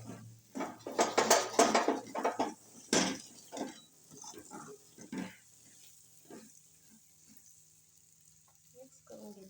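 A utensil scrapes and clatters against a pan while okra is stirred, producing loud, irregular knocks and scrapes early on that fade into softer, sparse taps over a faint sizzle.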